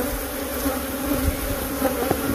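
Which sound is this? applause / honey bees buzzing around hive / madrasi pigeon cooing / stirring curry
honey bees buzzing around hive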